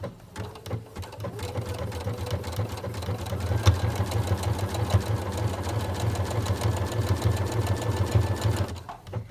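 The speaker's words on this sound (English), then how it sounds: "I'm just going to sew it on now with a stretch stitch on the machine" A sewing machine running a stretch stitch on a jersey neckband whirs in a fast, steady rhythmic chatter, close and continuous, stopping just before the end.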